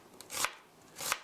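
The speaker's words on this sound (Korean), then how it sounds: "정도 이렇게 얇게 채 썰어주세요." A knife slices a vegetable into thin julienne strips on a cutting board, making two close, crisp cuts about half a second apart.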